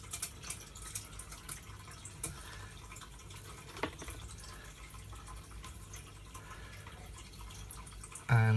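A homebrew grain bag is sunk into water, with quiet sloshing and dripping that comes and goes, then a sudden louder thump at the very end.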